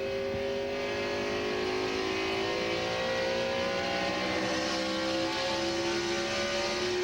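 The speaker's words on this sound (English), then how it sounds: "Man, that car has some acceleration." Stock car engine at the 2001 New England 300, a sustained loud roar with rising harmonic tones as it accelerates, steady and continuous without talk.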